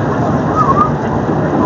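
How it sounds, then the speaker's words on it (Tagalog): Light drizzle falls outdoors at Somerset, a soft continuous patter with a brief faint tone partway through and no clear speech. "Somerset, umaambon guys."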